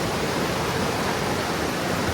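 Constant rushing water fills the air, a dense steady wash like a fast-flowing river heard up close.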